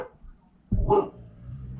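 A dog named Nitro gives a single sharp bark nearby, a short loud burst in an otherwise quiet room, followed by a low fading tail of sound.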